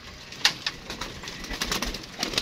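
Pigeons on a rooftop give soft cooing and occasional brief flutters against a steady, hissy outdoor background at moderate distance.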